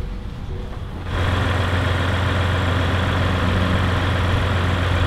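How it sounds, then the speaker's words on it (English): Diesel engine of a Jeep Wrangler EcoDiesel idling after a push-button start, a steady low rumble that jumps up after the first second and holds moderately loud and even, with no talking. "Yeah, that's a diesel. It's a good idle. It's not too loud."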